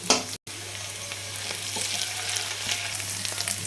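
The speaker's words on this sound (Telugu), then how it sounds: "ఇప్పుడు అల్లం వెల్లుల్లి పేస్ట్ వేసుకున్నాం" Ginger garlic paste frying in a pan for an egg tomato masala, a steady close sizzle with light crackles that cuts out for a split second near the start, then resumes evenly.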